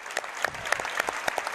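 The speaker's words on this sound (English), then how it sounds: "they're going to have the veterans stand here as we give them a nice round of applause" Applause from a high school basketball crowd honoring standing veterans, a dense patter of many hands clapping steadily with sharper individual claps popping through, fairly close and continuous throughout.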